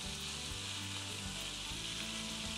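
Seasonings sautéing in a pan for a polenta-and-beef dish give a steady, close sizzling and frying crackle that continues alone for the whole stretch, with no voices.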